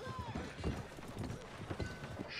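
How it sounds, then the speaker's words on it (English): Horse hooves clip-clop at a steady trot in the video game Red Dead Redemption 2, close and fairly loud, with someone talking over the rhythmic footfalls. "Get on my noble steed."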